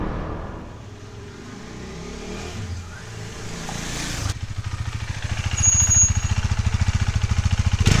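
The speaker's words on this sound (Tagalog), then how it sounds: "ito naman yung tunog ng KTM RC390 kapag tumatakbo ng stock pipe" A KTM RC 390 motorcycle on its stock exhaust pipe rides past: a muffled, distant start, then a closer throbbing engine note that swells and pulses as it accelerates.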